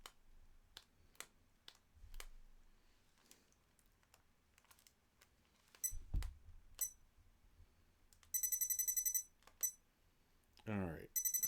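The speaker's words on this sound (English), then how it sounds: "Apologize for all the beeping." Sharp, high electronic beeps ring out in rapid bursts from a device that keeps switching itself off. They come between scattered clicks, taps and a brief voice.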